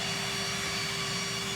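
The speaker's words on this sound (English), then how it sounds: "So here we are once again on a private jet." Steady broadband engine roar inside a private jet cabin on a flight to Austria, with a constant tonal hum running through the wash of noise, continuous and fairly loud with no talking.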